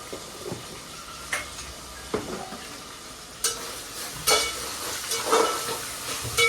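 Masala for a vegetable Manchurian gravy sizzles in a pan while it is stirred, a close hissing fry punctuated by irregular scrapes and knocks of the spoon every second or so, with no one speaking.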